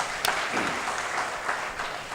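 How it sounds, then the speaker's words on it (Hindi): An audience claps at a Haryanvi comic poetry show, a fairly soft, continuous patter of many hands with one sharper clap near the start. "जरा एक बार तालियां बजाओ"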